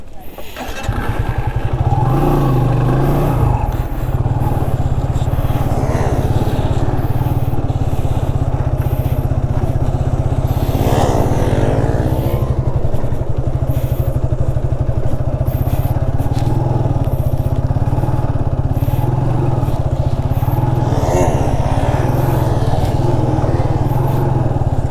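A motorcycle loudly revving and droning close by during stunt practice, the engine note rising and falling as it circles, while someone talks over it much of the time.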